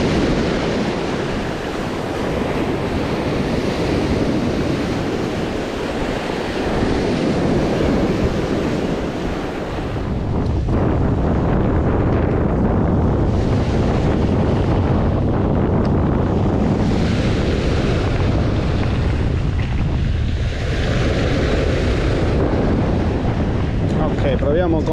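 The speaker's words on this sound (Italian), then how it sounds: "anche se c'è il vento che disturba veramente tanto" Strong wind buffets the microphone on an inshore sea shore during spinning for barracuda, a constant loud roar with gusts mixed with surf noise throughout.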